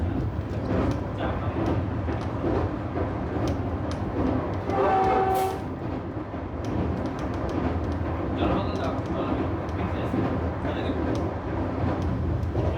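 Vande Bharat Express train crossing a bridge on the New Jalpaiguri to Guwahati run: continuous rolling rumble and clatter with a brief horn blast midway, loud and close throughout, with voices faintly underneath.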